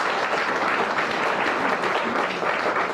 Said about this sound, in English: I would ask you to give her a round of applause for the use of her premises here.